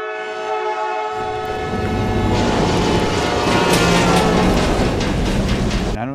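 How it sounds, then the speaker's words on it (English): A train passes less than a block away, its long loud horn blast followed by a heavy, building rumble of rail cars that fills the rest of the stretch. "not just the blast of the horn, but the rumble of that train"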